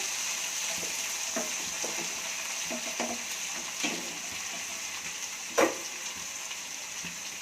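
A steady sizzle rises from eggplant, tomato and potato curry frying in a pan, broken by a series of soft scraping stirs and one sharper clatter near the end, all close and moderately loud.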